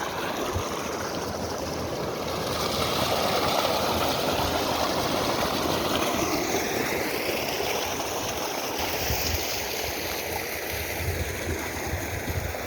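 Water gushing from a solar-powered tube well pump at full delivery, a strong steady rushing flow with a continuous broad roar, loud and close, without speech.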